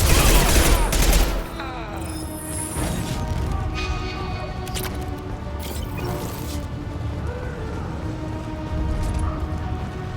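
Gunfire during combat in the Mass Effect 2 video game, a dense burst of shots up front easing into steady, loud firing with mechanical clatter and game background noise underneath.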